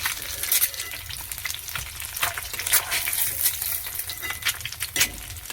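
An egg dusted with turmeric and a little gram flour fries in a pan, a loud, close, bubbling sizzle with irregular spitting pops and crackles throughout.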